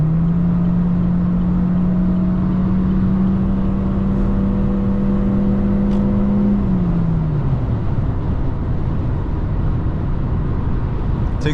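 A Chevy Spark compact car accelerating hard to overtake big 18-wheeler trucks on a highway: loud, strained engine drone holding a steady pitch, then dropping as it shifts, under constant road and wind roar.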